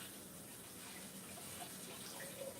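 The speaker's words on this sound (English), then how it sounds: "So I'm just going to rinse these off, my blackberries" A kitchen tap runs steadily while blackberries are rinsed under it, a constant broadband water hiss with no breaks and no talking.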